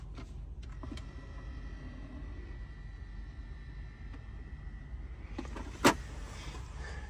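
The electric seat adjustment motor of a Maybach gives a thin, steady whir that runs for several seconds inside the quiet cabin, then stops with a soft click before a short second burst.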